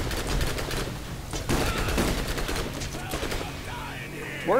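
Gunfire in the video game Borderlands: a dense, rapid stream of shots over several seconds, loud and close, then tapering off into game sound effects at the end.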